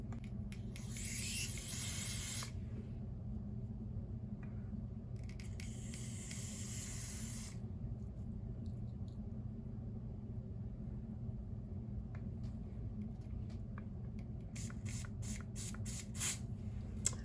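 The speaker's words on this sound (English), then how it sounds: "I'm going to take my even spray and I'm going to spray my hairline up here into the lace so I can lay it down" Hair spray misted onto the lace of a wig along the front hairline, heard as three separate breathy hissing bursts, close and moderately loud, with quiet gaps in between.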